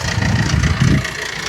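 A used car with a Godrej jet engine idling, a loud steady low rumble with a brief swell in the middle, close to the microphone.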